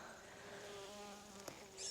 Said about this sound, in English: I love the bees.